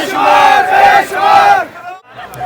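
Large crowd of Imran Khan supporters at Zaman Park, Lahore, chanting loudly in unison, a sustained roar of massed voices rising and falling in two long waves before breaking off briefly.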